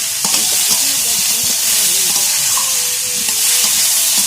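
Chopped bottle gourd sizzles steadily in a hot pan with oil, a continuous loud frying hiss broken by scrapes and clinks of stirring, close up and without talk.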